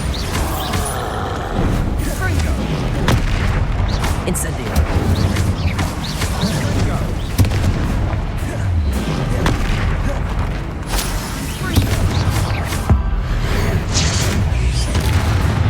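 Spell explosions from Bombarda and Confringo in the Hogwarts Legacy video game, with repeated loud booms and crashing impacts in quick succession over combat sounds, and a voice speaking throughout.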